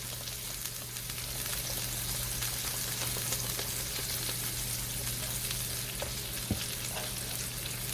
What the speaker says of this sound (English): On this side, it's time to add some butter.